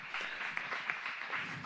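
Audience applause at a TV show taping, a steady wash of clapping from a crowd with a few sharper individual claps standing out, fairly close and continuous throughout.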